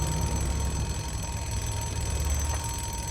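Alarm clock ringing in the survival game State of Decay, a steady high electronic tone held continuously over a dense rumbling background of game ambience.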